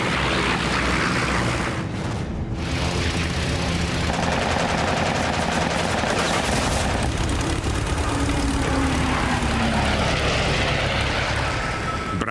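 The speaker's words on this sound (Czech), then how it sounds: "6 kulometů Mustangu vychrlilo dávku." Six machine guns of a P-51 Mustang fighter fire a sustained rattling burst over a droning aircraft engine, loud and continuous throughout.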